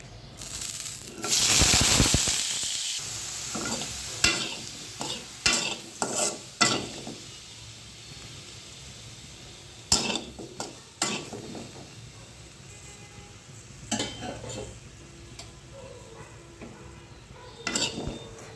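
Sun-dried lentil dumplings go into oil with a brief loud hiss, then quieter frying broken by a series of sharp spatula scrapes and clanks against the pan at irregular intervals.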